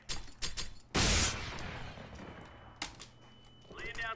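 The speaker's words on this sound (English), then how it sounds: "Throwing flashbang. Grenade out." Flashbang grenade going off in a tactical video game, a sharp loud blast with a ringing decay, preceded and followed by scattered gunshot cracks and brief voices.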